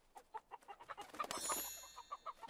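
Chickens in a coop cluck in quick, uneven bursts at close range, with a brief sharper squawk in the middle and no talking.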